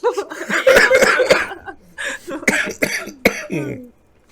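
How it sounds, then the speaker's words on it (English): A fit of harsh, repeated coughing up close, the bursts breaking up into chuckle-like throaty sounds as it trails off. "So, context on that cough."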